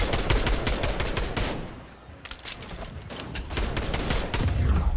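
Fortnite gunshots rattle in fast, loud automatic bursts, break off briefly around the middle, then resume in another quick string of shots.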